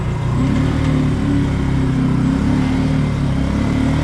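A motorcycle ride with a steady, loud engine drone and constant wind and road rush, close and continuous throughout, with no talking.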